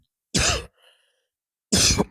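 Two short, sharp coughs close to the microphone, about a second apart, with near silence between them.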